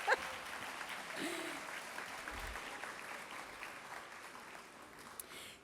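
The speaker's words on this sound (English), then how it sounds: "Clap for yourselves" At a high school career and technical education completers ceremony, a roomful of people claps for themselves. The applause is faint and distant, a soft continuous patter that slowly thins out, with a brief knock near the start.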